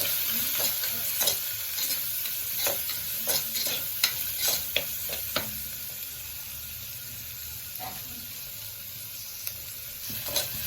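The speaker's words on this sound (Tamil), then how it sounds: "வெங்காயத்தை போட்டு வதக்கிண்டு நல்லா வதக்கிட்டேன்" Onions sauté in a pan, giving a soft, continuous sizzle broken by repeated stirring scrapes and taps from a spoon at close range, with no voices.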